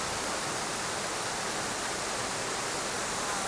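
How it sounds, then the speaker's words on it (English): A giant waterfall at the entrance to the Far and Wide movie at Epcot roars as a steady, dense, loud rush of falling water, unbroken throughout. "Look at this. This giant waterfall."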